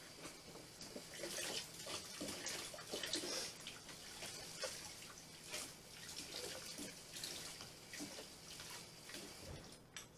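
Water rinsing down the lines of a milk machine during cleaning, a steady close splashing and trickling wash that runs without a break under faint background hum.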